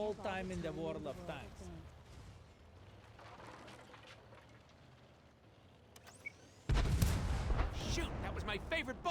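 A tank cannon fires in World of Tanks, from an AMX 13 FL 11 light tank: one loud, sudden boom with a rumbling tail breaks through quieter engine and battle ambience, and a player talks over the earlier part.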